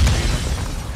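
A grenade blast in Warzone 2.0 play, one heavy low boom at the start that rolls off into a rumbling decay over about a second, with no voices over it.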